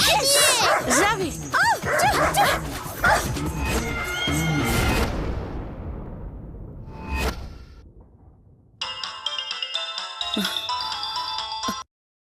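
A dog barks and whimpers in short, high, wavering cries near a gate in a Telugu TV serial scene. The cries mix with whooshing effects, and a loud ringtone plays toward the end before everything cuts off.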